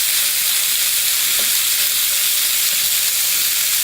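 Chicken pieces sear and brown in a hot pan for caramel braised chicken, giving a steady close sizzle and hiss of frying with no voices.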